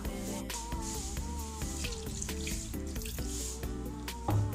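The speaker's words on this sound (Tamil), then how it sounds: "தண்ணி வந்து ஒரு அரை டம்ளர் தண்ணி ஆட் பண்ணியிருக்கேன்." Half a tumbler of water pours into a cooking pan of kaalan masala, a steady running, splashing wash heard under background music.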